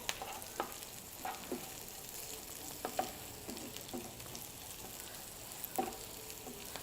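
Ingredients sautéing with salt in a pan for a no-onion, no-garlic biryani give a soft, steady sizzle, with occasional stirring clinks and scrapes heard close by.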